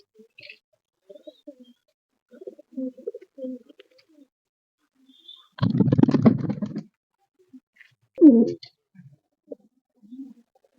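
Madras pigeons in a loft give quiet, scattered low coos in an otherwise hushed space, broken by one loud rustling burst of wings and a sharp call shortly after.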